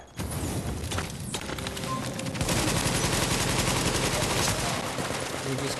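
Turret gunfire in a video game, a dense, sustained burst of rapid shots and booms after a brief quieter start, loud and continuous throughout.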